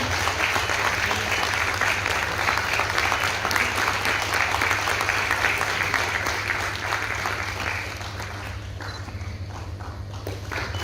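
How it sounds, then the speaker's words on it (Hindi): Loud, continuous applause from a large audience at an award ceremony held by a cooperative society, steady for most of the span before easing slightly, with a low steady hum underneath. "कृपया अपनी तालियों की गूंज यहाँ तक आए, इस तरह से तालियां हो जाएं।"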